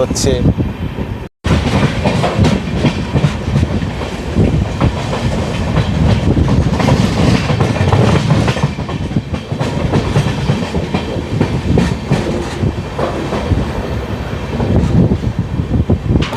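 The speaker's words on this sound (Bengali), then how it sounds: "যখন নর্থ বেঙ্গল ঢুকলো একটু ট্রেন হালকা স্লো স্লো চলছে" The Uttarbanga Express, an LHB coach train, rumbles steadily along the tracks at slow speed in North Bengal with continuous clattering and wind noise, loud and close, as if heard from inside a carriage.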